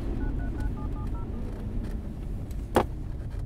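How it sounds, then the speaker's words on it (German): A short run of telephone keypad tones as a call is dialed inside a car, evenly spaced beeps over low road rumble, followed later by a brief rattle. "Wir rufen jetzt mal den Herrn Eberl an"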